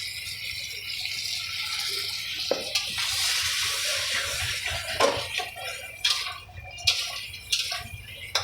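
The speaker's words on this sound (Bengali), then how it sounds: "এ সময় কিন্তু একটু সামান্য জল দিতে হবে।" A little water splashing into a pan of masala koi fish curry, with rattling, clinking and soft drips of pot and utensils, several sharper knocks toward the end, close and moderate.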